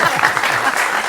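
A short burst of dense audience applause, steady, loud and close, with many hands clapping at once.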